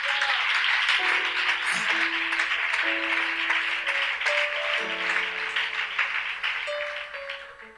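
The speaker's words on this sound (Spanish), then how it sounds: "Aleluya, dar un aplauso al Señor." A church congregation clapping in praise during a Spanish-language sermon, broad sustained applause over sustained organ or keyboard chords that fade out toward the end.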